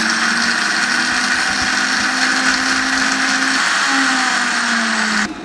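A kitchen blender grinds pomegranate seeds for juice, a loud continuous whirring motor whose pitch wavers slightly as it churns, then cuts off abruptly.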